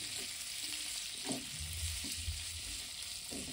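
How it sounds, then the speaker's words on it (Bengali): Prawns frying lightly in a pan, a dense, steady sizzle with a few soft scrapes and knocks as they are stirred, close up and without voices. "চিংড়িটা আমি অল্প একটু 2 মিনিট হালকা নেড়ে নেবো"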